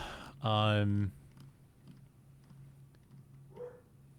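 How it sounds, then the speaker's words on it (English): A household dog lets out one loud, drawn-out bark close by, followed by a low steady hum and a faint, brief vocal sound near the end. "Our dogs are talking."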